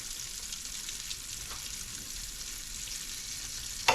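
Fish nuggets frying in hot oil in a large pan produce a steady, even sizzle throughout, close and moderately loud, ending with a brief louder crackle or clatter.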